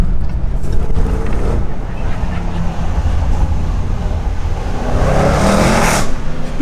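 A Range Rover SVR drives through city streets, its engine and exhaust producing a constant loud rumble that swells into a brighter, louder roar toward the end.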